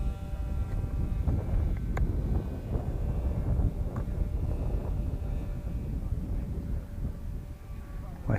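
Wind buffets a microphone outdoors in a steady low rumble with irregular gusty thumps, dense and continuous for the whole stretch.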